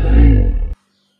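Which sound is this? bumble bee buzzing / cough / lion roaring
lion roaring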